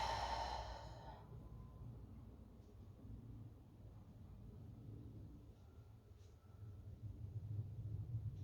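A long, slow exhale during a yoga breathing exercise, with a breathy rush at the start that fades into a low, steady rumble of room noise.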